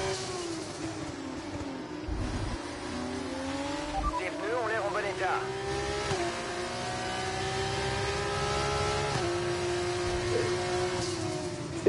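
Single-seater race cars in a racing game accelerate and shift up through the gears, their engine whines rising repeatedly over a continuous roar, with a brief tire squeal and a voice talking underneath.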